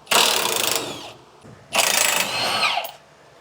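Two bursts of a pneumatic impact wrench with a 21 mm socket, working U-bolts loose on a Ford F-150 during a lowering kit install. The hammering rattles run about a second each and are close and loud, with a short pause between them.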